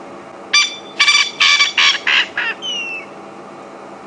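A bird at Djuma Game Reserve gives a run of six or so harsh, rhythmic squawking calls, close and clear, followed by a brief whistled note over quiet bush.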